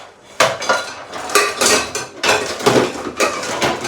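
A metal pan is lifted out and handled in a home kitchen before coffee is made, giving a series of close, loud clanks and scrapes of cookware and utensils in bursts over a few seconds, with no talking.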